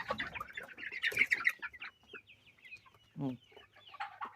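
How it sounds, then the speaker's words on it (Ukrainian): Chickens and roosters cluck and chatter nearby in an irregular series of calls, with a few sharper squawks among softer clucks. "І курочки такі, і півники такі."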